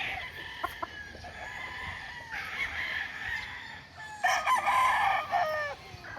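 Backyard chickens, a wine-red straight-combed bird among them, call out with a rooster's harmonic crowing and scattered clucks over a steady hiss, strongest near the end, with no talking.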